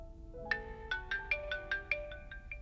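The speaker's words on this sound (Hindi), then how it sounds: "पापा का फोन आ रहा है।" A phone ringtone plays a quiet, bright, chiming melody as an incoming call from dad arrives. The tones rise and fall evenly, with no talking over them.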